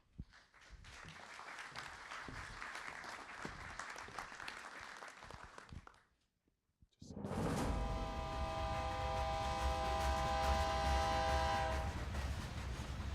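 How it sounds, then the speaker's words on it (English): Applause fades out, and after a brief silence a freight train passes with a loud, sustained horn blast over heavy rumbling wheels and rail noise. "Every day, thousands of freight trains wind their way across countries around the world"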